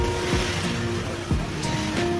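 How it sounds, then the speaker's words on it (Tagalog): Sea waves wash against the shore of Zakynthos island with a steady surf roar, and a few heavier breaks land at irregular intervals, fairly close and loud, with wind noise mixed in and no talking. "Lapit na tayo sa dagat."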